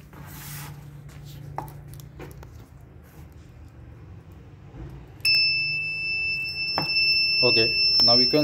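An Arduino smart helmet ignition system's buzzer gives a steady, shrill electronic tone that starts partway through and holds to the end, with a voice speaking faintly beneath it.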